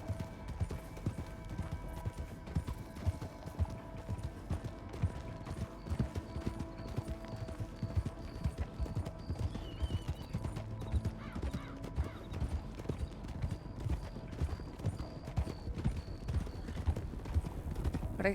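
Horses trotting in a Red Dead Redemption roleplay game, a steady rhythmic clip-clop of hooves running throughout at moderate level, with an occasional faint tone in the background.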